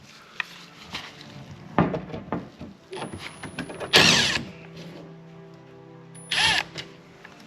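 A T15 Torx driver backs out two screws holding a lens in a 1992 Firebird interior, giving close clicks and scraping metal with two louder grinding bursts a couple of seconds apart.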